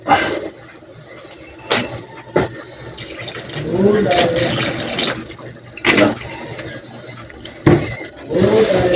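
Water pours into a cooking pot while making lechon paksiw, splashing in bursts of a few seconds between pauses, with a person talking through it.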